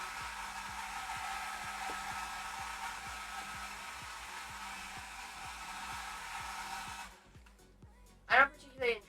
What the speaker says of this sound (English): On the low setting, it's not too loud.